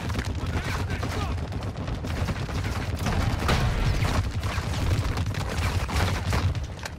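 Rapid gunfire crackles continuously in a Call of Duty MW2 DMZ match on Ashika Island, dense bursts of shots and booms filling the mix at steady loudness, with voices talking over parts of it.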